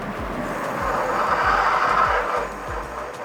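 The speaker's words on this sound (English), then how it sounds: "Ooh, lots of skidding in that back tire." Rear tire of a Vtuvia SJ26 electric fat bike skids under hard braking on a descent, giving a continuous rough scraping hiss with rhythmic low thumps from the tire, fairly close.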